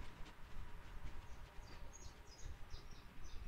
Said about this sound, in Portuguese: A gente tem que ir movendo o trem aí